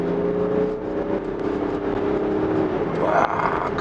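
A BMW X5 40d diesel SUV accelerates, heard as a steady in-cabin engine drone with a harmonic hum and rising road and wind noise. The sound is continuous and fairly loud throughout, with no clear speech over it.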